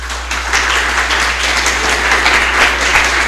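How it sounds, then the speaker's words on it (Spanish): A church congregation breaks into steady applause, a dense wash of clapping that holds at an even, fairly loud level throughout with a faint low hum beneath and no talking. "Esto se merece un aplauso."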